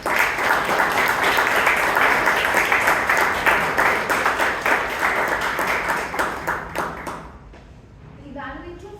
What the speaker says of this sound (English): Let's give one more round of applause for that amazing speech.